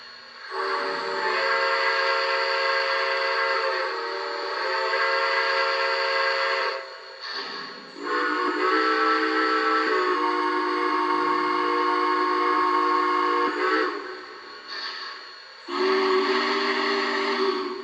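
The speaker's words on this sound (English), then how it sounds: "let's go ahead and give the whistles a couple hits." A model train's steam whistle, on a Lionel Visionline Pacemaker J1E Hudson, blows loud, sustained chords in several long blasts separated by brief gaps, clear and close with no talking.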